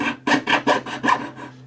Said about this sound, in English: you're sawing at a 45-degree angle